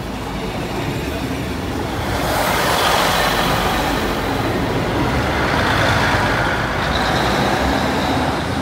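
Class 60 and Class 66 locomotives haul a railtour past the Lincoln High Street level crossing, a loud, continuous rumble and roar that swells partway through and holds steady, heard close with no talking.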